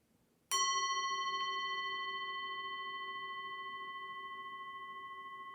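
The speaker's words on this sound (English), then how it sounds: "wait till you hear the sound of the bell" A single bell struck once, a clear bright ring that rises sharply and then hangs, fading very slowly into a long sustained shimmer with nothing else over it.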